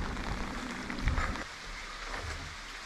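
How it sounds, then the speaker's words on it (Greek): Rain falling and intensifying in the mountain village of Monodendri, Zagori, Greece, a steady broadband hiss of drops on surfaces with a louder burst near the middle, heard up close with no talking. "Δυναμώνει η βροχή"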